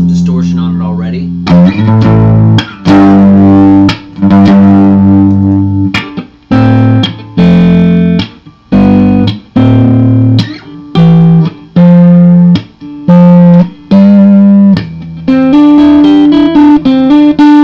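Electric guitar played through a Line 6 DT25 two-channel amp on its distortion channel, loud chopped chords and sustained notes alternating with short gaps, with a brighter higher riff near the end.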